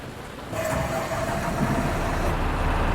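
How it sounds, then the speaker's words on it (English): Bus engine in the driving game The Bus cranks and catches, then settles into a steady mid-pitched idle rumble that holds to the end, alone without talk. "press and hold I to start the engine"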